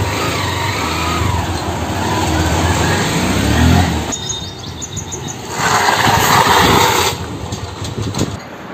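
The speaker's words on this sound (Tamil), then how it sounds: "வண்டி ஓட்டி பார்த்து செக் பண்ணிடுவோம் பிரேக் எப்படி நிற்கிதுன்ட்டு" Honda Hornet motorcycle ridden to test modified combi disc brakes, a loud engine and road rumble close by that rises and falls, with bird chirps audible in the background.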